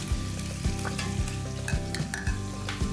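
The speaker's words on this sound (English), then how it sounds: "We're going to brown some sausage." Sausage browns in a pan for Sunday sauce with a loud, continuous sizzle and regular scraping strokes of a utensil, close up, with no voices.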